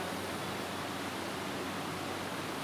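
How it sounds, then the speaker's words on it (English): Distilled water pours steadily into a laboratory flask, a constant hissing, splashing rush heard up close and alone for a few seconds. "Addition of distilled water"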